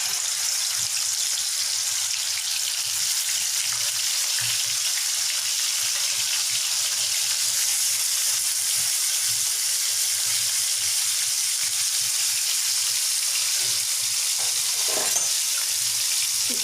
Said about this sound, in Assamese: এতিয়া মই কেৰাহীত চিকেন দিছোঁ, আপোনালোকে চাব, মই কেৰাহীত চিকেনখিনি দি দিছোঁ।